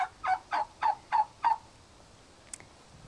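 A farm tom turkey gobbles in a quick string of five loud, close, rattling calls, then falls silent apart from one faint sharp sound.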